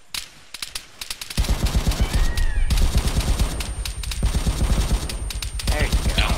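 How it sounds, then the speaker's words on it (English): Enemy machine-gun fire in a Vietnam War video game, with rapid bursts and single gunshots rattling over a dense battlefield din along with scattered distant shots. "I think he's shooting at me now."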